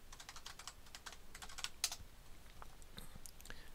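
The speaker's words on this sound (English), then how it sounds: "So what you do is in a web browser type that in like it's a web address" Rapid clicking keystrokes on a computer keyboard, a quick irregular patter of close, soft taps with a few sharper hits, while a web address is entered into a browser.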